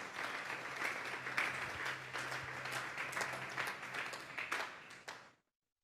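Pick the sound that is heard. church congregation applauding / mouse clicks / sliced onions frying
church congregation applauding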